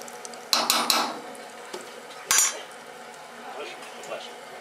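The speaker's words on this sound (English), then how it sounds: "You'll let it fry on one side, and you'll see it start to get a little golden brown on the edges." Batter-coated Oreos frying in oil at a fundraiser food shack, a soft steady sizzle under a few sharp clinks and scrapes of a utensil against the pan, with faint talk in the background.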